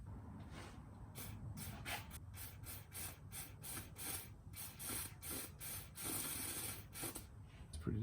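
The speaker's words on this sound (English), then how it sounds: "Squirting a fair bit of cleaner through them, so they looks like they're pretty free." Cleaner sprays in repeated short bursts through parts of an Edelbrock 1406 carburettor during a rebuild, a series of close hissy squirts with brief gaps between them.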